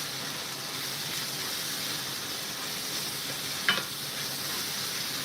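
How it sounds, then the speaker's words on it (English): Food is stirred in a pan over heat for a home-cooked lunch, a continuous soft sizzle and hiss with one brief scrape of the utensil near the end. "Please do well to give your food a stir."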